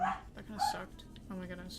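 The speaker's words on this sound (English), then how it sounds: "I'm so sorry if you hear a dog barking." A dog barks in short yips close to the microphone, partly tangled with a person talking over it.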